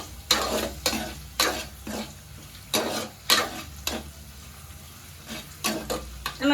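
Crushed garlic and onions sautéing in a pan for carrot beetroot curry, with a soft, steady sizzle beneath a series of distinct spoon-scraping stirs at an uneven rhythm, close by.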